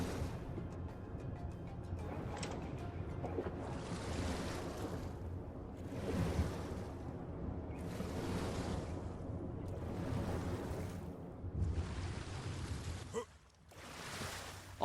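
Swimming across water in the survival game Ark, with repeated splashing strokes in surges of rushing water, close and fairly loud, ending in a brief lull.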